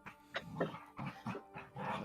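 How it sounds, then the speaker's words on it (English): Dogs bark and yip in a rapid, irregular series of short calls, heard at moderate distance over room noise, with no one speaking. "Sounds like those dogs in the background."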